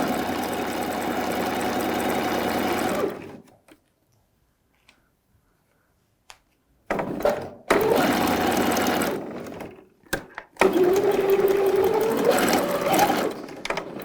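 Sewing machine stitching fabric for a child's jumpsuit, a close steady mechanical whir that runs for several seconds, stops, then restarts in short bursts and a longer final run with a reverse backstitch.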